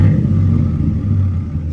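A truck with a stock 5.3 engine runs close by, giving a steady deep rumbling idle with a faint uneven throb and no talk over it.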